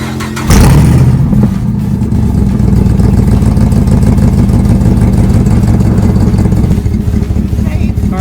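A race car at Las Vegas Motor Speedway drifts around the course, its engine snapping into a loud, sustained rasping roar after a brief quiet moment and holding steady, close and aggressive throughout.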